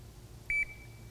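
A single short electronic beep from an MSA Solaris gas detector, clear and high-pitched, sounding once against a quiet background hum.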